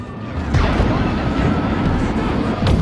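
Missiles exploding in the video game Destroy All Humans, a dense, loud barrage of booms and blasts rolling continuously, with sharper bursts near the start and end.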